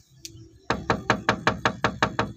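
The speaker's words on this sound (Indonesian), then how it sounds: "Coba lah saya ketok-tok dulu." Knocks on a house door, likely a closed one: a single faint tap, then a loud run of eight evenly spaced, firm raps close by, with no talk.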